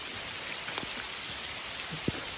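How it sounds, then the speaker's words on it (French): Rain falling in Laos, a steady hiss of continuous downpour with a few scattered louder drops and taps, even in level throughout, no voices. "il pleut toujours"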